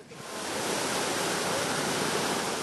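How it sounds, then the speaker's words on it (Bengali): Floodwater in Cox's Bazar rushes and drains away fast, a loud, dense, unbroken roar of flowing water swelling quickly at the start and holding steady. "জমে থাকা পানি বেশ দ্রুত নামছে নিচের দিকে"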